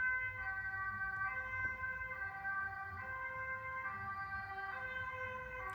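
An ambulance siren wails steadily at a distance in the Netherlands, its repeating two-tone pattern drifting over a low road rumble with no talking.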